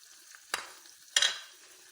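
A lamb tagine with spices, garlic and beans is stirred in a pot. Two short, soft scraping strokes sound over a faint background.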